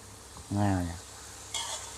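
A short burst of sizzling and clattering from minced pork with holy basil being stir-fried over high flame in a wok, with a brief voice just before it.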